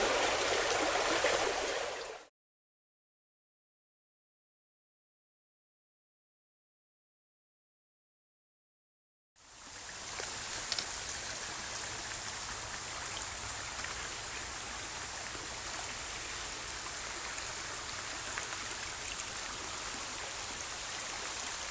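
A river flowing in fall woodland, a steady soft rushing and trickling of water heard close and continuous, with a brief burst at the start followed by a long stretch of silence before the flow resumes.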